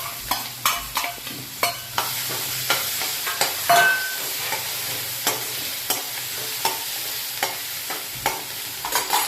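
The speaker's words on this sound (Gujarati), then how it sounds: "ડુંગળીને હવે આપણે થોડીક વાર તેલમાં સાતળવાની છે." Onion sautés in oil with whole garlic cloves in a pan, a steady close sizzle punctuated by regular sharp knocks and scrapes of a spoon stirring against the pan.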